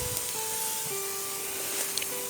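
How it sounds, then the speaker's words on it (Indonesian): Hand pump sprayer hissing out a fine mist of urea solution onto weeds along the edge of cocoa seedlings, a steady close spray sound with no talk. "Jadi kita semprot, tekan pompa dulu. Jadi kita semprot bagian sini"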